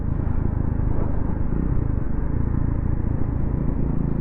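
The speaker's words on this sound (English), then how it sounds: "I do like that exhaust note." Triumph Scrambler motorcycle exhaust chugging uphill at about 3,000 revs, a steady, close, continuous engine rumble mixed with riding wind noise, with no talking.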